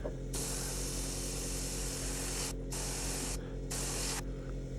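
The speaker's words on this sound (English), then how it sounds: "now I'll go back on with the airbrush and darken down those areas" An airbrush hisses steadily as it sprays paint for weathering, in continuous bursts broken by short pauses, close and even with no voices.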